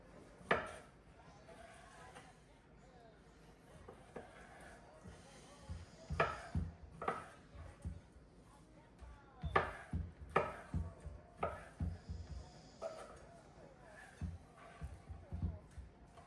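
Knife chopping chicken on a cleaned cutting board in a home kitchen, honey garlic chicken prep: a string of uneven, sharp thuds, close and moderately loud, with faint talk underneath.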